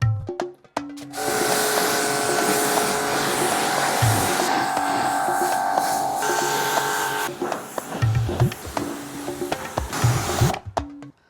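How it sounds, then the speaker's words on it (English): Pressure washer rinsing a car, a loud, steady high-pressure spray hiss with a motor hum that runs for several seconds, then breaks into shorter intermittent bursts and clatter near the end. "now I've finished rinsing the vehicle off with the pressure washer"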